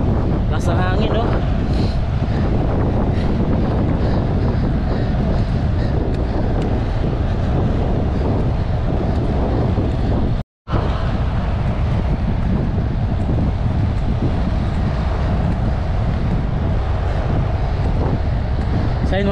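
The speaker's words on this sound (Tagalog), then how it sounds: "Grabe, sobrang lakas ng headwind." A strong headwind during a long gravel bike ride, roaring loud and continuous across the microphone with a brief dropout midway.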